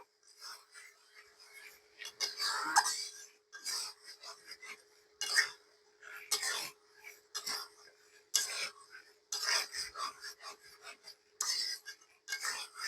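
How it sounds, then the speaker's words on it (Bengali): A spoon or spatula scrapes and rasps through fried pointed gourd (potol) being mixed into cooked spices in a pan, in repeated short bursts of stirring with brief pauses, fairly close. "আমি এখন ভাজি করে রাখা পটলগুলো দিয়ে দেব দিয়ে মশলার সঙ্গে ভালোভাবে মিশিয়ে নেব"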